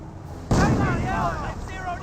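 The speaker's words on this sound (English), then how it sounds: "Good mortar hit there." A mortar round lands in Company of Heroes, a sudden heavy boom followed by a sustained rumbling decay over ongoing battle noise.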